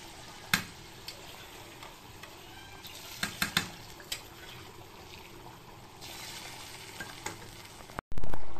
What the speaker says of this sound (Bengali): এবার এই কড়াইয়ের পুরো মশলাটা এটার মধ্যে ঢেলে দিয়েছি।